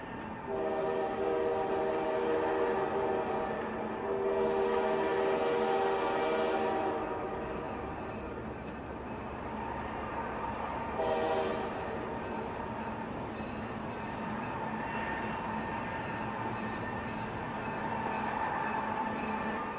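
A train rumbles steadily along the tracks with a continuous engine drone and whistle-like tones, loud and close throughout.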